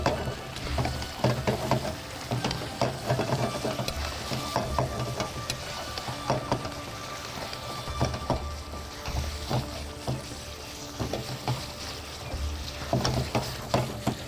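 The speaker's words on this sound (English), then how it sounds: "Now I shall just mix it up." Makrani prawn curry being stirred in a pan, continuous frying sizzle with repeated scraping and knocking strokes of the spoon against the pan, close and steady throughout.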